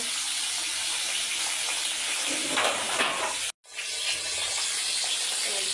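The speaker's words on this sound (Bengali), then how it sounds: "এদিকে পাঙাশ মাছ ভাজি হচ্ছে" Pangas fish fries in a pan with a loud, steady hiss of sizzling oil, broken once by a brief silent gap, with no voices.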